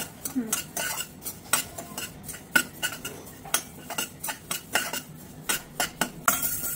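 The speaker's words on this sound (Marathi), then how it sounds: "डाळ आधी मंद आचेवर आपण भाजून घ्यायचं" A spoon stirs split mustard seeds as they dry-roast in a pan over low heat for mango pickle, making a steady run of quick metallic scrapes and clinks against the pan with no voices.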